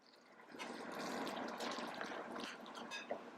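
A quarter cup of milk is poured into boxed cornbread mix, making a soft, close liquid trickle that rises and carries on for a few seconds, fairly quiet and alone.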